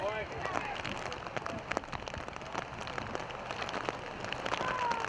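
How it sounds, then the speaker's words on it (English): Heavy rain pouring down at an outdoor baseball game, a dense steady hiss of drops with scattered crowd noise and faint calls, while people talk over it. "we've just had time called as the rain now is very, very heavy"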